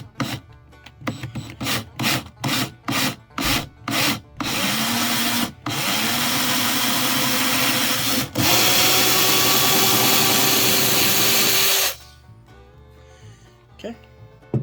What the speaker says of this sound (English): Now I'm going to take an 1/8 inch bit and just try to get through the wood.